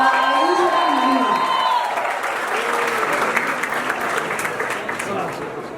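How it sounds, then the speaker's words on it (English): Loud, sustained applause from a large crowd at a college celebration of a film's success, with cheering and whoops mixed in, a voice speaking over the start and the clapping tapering slightly toward the end. "can we have a huge round of applause once again for Ayush and Mahima?"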